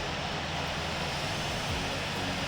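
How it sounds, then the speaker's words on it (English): An airliner's engine 1 spools up on a taxiway in the Infinite Flight simulator, a dense, steady loud roar and rising whine that fills the whole stretch without any talk. "I'm gonna start my engine 1,"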